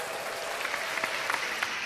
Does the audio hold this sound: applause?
yes